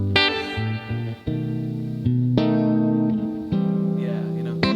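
Electric guitar played through a Twin amp with reverb turned up very wet, sustained chords and notes ringing out with long washy tails, loud and close, no talking.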